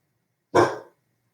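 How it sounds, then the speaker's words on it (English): A single loud bark from a dog, short and close, in an otherwise quiet room. "Sorry, my dog, Izzy"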